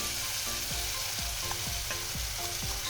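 Spices with turmeric powder and salt fry and are stirred in a pan for papaya kofta curry, giving a steady close sizzle broken by several rhythmic scraping strokes of a spatula, with no talking.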